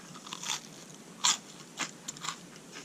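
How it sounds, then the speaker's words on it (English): Crisp crunches of someone biting and chewing crunchy shrimp toast up close, several short crackly bites at uneven intervals over quiet background hiss. "Now, is that bit crunchy or what?"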